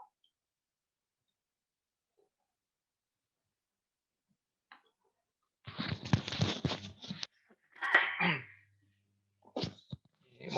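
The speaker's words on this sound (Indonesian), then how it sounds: "Jadi beberapa kali agak batuk-batuk." A person with a cough coughs in a few short, harsh bursts after a long quiet stretch, fairly close, with no talking.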